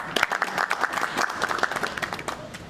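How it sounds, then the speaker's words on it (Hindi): A crowd claps steadily in dense, continuous applause, fairly close, with no talking over it. "मेरा ख्याल है आप सब इनके लिए तालियां बजाएं"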